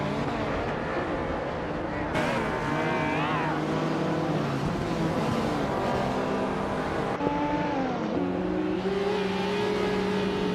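Racing cars driving hard and overtaking, engines whining and revving up and down in pitch in a steady roar, with a commentator talking over the engines.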